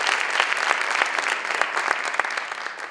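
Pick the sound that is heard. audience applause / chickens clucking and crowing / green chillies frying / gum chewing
audience applause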